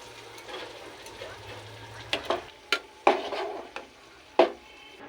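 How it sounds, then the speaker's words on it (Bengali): Spiced tempering poured into khichuri made with cauliflower sizzles softly, broken by several sharp knocks and clatters of a utensil against the pot, close and uneven. "ফোড়নটাকে ঢেলে দিয়েছি"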